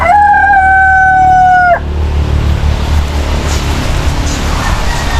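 A rooster gives one loud, close crow lasting nearly two seconds, then the yard falls to a steady rumble of background noise with faint farmyard sounds; the chickens are kept on the grounds of a newly occupied house.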